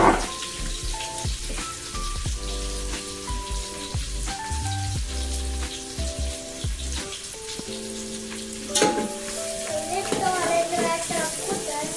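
Onion sizzling and crackling in hot oil in a pan over a village wood-fired stove while chicken vade are prepared, a steady hiss under loud, prominent music that carries through the whole stretch.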